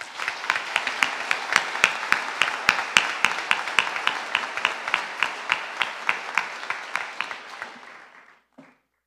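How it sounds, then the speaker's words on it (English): A commencement crowd applauds the ceremony staff, giving a fairly close, bright burst of clapping with a few distinct sharp claps on top of the mass. It fades out and stops just before the end. "Please give them a round of applause."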